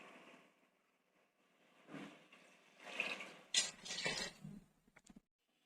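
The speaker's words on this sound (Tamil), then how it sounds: "ரெண்டும் சேர்த்து ஒரு 5 டம்ளர் தண்ணி சேர்த்துக்குங்க" Water poured into a cooking pot holding raw rice and toor dal for sambar rice, splashing in several separate pours with brief pauses between them, fairly close and unaccompanied by talk.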